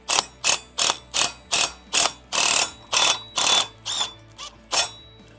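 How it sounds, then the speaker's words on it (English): A ratchet wrench tightens bolts on a trailer tray for a camper generator, giving a run of about eleven loud, close clicking pulls in a steady rhythm, each a rasping burst of pawl clicks. "go ahead and tighten this one down"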